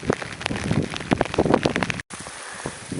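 Rain falling steadily outdoors on a hiking trail in the Appalachian mountains, with a dense patter of drops hitting surfaces nearby, briefly cut off near the end before resuming.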